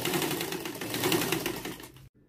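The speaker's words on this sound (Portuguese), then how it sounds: "Então, vamos fazer duas costuras, uma bem do ladinho da outra. Vamos fazendo devagar, devagar, para costurarmos bem no meio." Sewing machine running steadily while stitching parallel gathering seams along a cloth dish towel, a continuous close mechanical whir with rapid needle rhythm that stops abruptly near the end.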